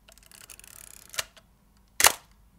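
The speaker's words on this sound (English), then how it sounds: "this is Mamiya, my favorite shutter sound I have ever heard" A Mamiya film camera fires its shutter, heard as a short mechanical winding whir followed by two crisp, close clicks about a second apart, with no talking.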